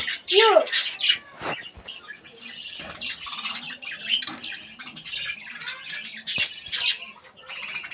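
Birds at a mini zoo, budgerigars and pigeons, squawk and chirp in a busy, fairly close chorus of overlapping calls that runs through the whole stretch.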